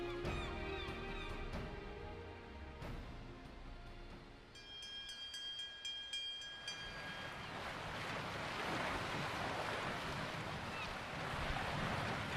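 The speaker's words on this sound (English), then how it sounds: "It would seem our ship is set to sail." A ship sets sail across the ocean in Final Fantasy XIV: sustained tonal music gives way to a broad, steady wash of waves and wind that swells and continues to the end, with no speech.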